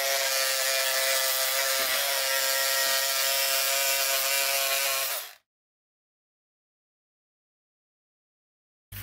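Electric scissors with a fabric blade buzz steadily while cutting through two layers of extra heavyweight fabric, a loud continuous whir with small shifts in load, stopping abruptly about halfway through and leaving silence.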